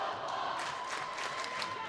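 A rival high school boys basketball crowd, Leominster at Fitchburg, cheering and yelling across the gym, a steady roar of many voices with rising shouts, heard at a moderate distance.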